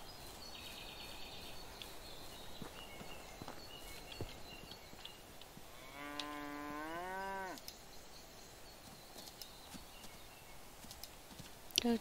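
A single cow moos once from a farm in the medieval village-building game Medieval Dynasty, heard clearly over a quiet ambience of crickets and faint countryside sounds.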